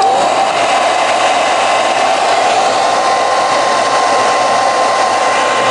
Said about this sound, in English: Let's go ahead and add the hair dryer without any heat, just the fan